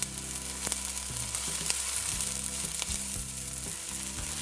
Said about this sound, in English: I'm going in with my chopped onions. I'm also going to go in with some hot peppers and pimento peppers chopped.